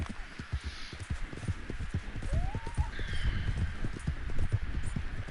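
Rapid rhythmic hoofbeats of a galloping horse in Red Dead Redemption 2 thud steadily and close, with a brief rising whistle-like tone over them midway.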